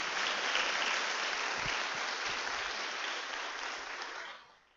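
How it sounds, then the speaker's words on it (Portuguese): An audience at a Christian talk gives a strong round of applause for Jesus, a thick continuous patter of clapping that holds steady before fading away near the end, with no speech over it. "Dá um aplauso a Jesus aí bem forte."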